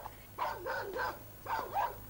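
A puppy yips and barks in two short bursts, each a cluster of high, whiny barks, close and clear with no talking.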